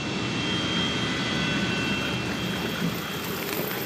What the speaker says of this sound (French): Sur le tarmac, résonne le vacarme lancinant de la turbine d'un avion qui s'apprête à décoller.